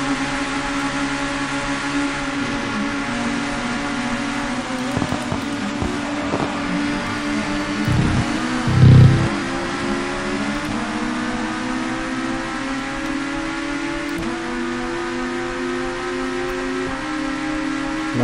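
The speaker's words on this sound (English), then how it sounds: "That car really sounds like a Volvo." A touring car engine in the TOCA 2 Touring Cars racing game drones and revs continuously with shifting pitch, loud and close, with a brief low thump midway and no talk.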